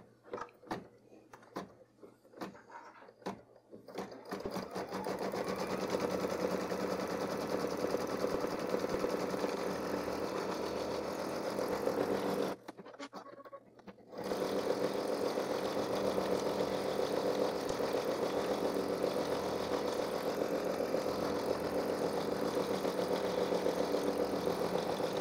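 An embroidery machine stitches an in-the-hoop towel topper, a steady rapid mechanical whirring that runs continuously after a few start-stop bursts, with a short pause midway before stitching resumes.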